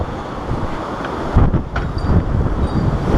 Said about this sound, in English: Holy shit, you guys, this wind.